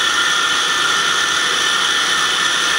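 A KSI SQC-38 CNC Swiss lathe spinning at 3,000 RPM, heard up close as a loud, steady high-pitched whine and hiss with no breaks.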